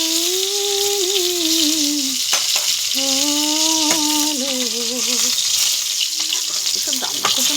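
Pointed gourd slices fry in a pan at home with a steady, close sizzle. Scraping stirs break through now and then, and a sustained tonal hum rises and falls over the frying.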